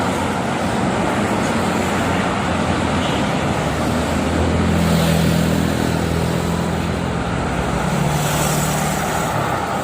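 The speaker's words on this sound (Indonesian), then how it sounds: "Banyak bus-bus pariwisata ya," Dense, loud roar of traffic on the Cikampek toll road, with tour buses and other vehicles rumbling past continuously and heavy low engine drone swelling midway, with no talking.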